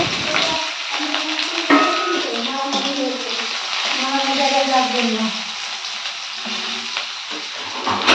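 Chillies, onion and garlic frying in a pan, a steady close sizzle running throughout with occasional stirring, while someone talks over it.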